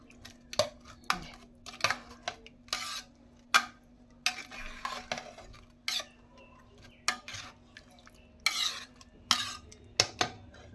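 Chickpeas, cucumber, potato and tomato being stirred together in a bowl for dahi bhalla, with repeated scraping and clinking of a spoon against the bowl in irregular bursts, close and fairly quiet, no talking.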